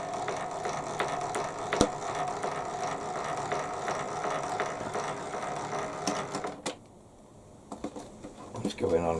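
The head of a Warco WM16B milling machine is wound up by hand, giving a steady run of quiet mechanical ratcheting and gear clicks that pause briefly near the end before resuming.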